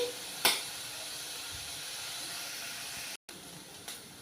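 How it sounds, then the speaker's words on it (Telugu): Garlic, urad dal, mustard seeds, cumin, dried and green chillies, onions and curry leaves fry in hot oil for a coconut and chana dal stir-fry, a steady soft sizzle and hiss with a couple of brief pops. "ఇవన్నీ బ్రౌన్ కలర్ వచ్చినంత వరకు వేయించుకోవాలి"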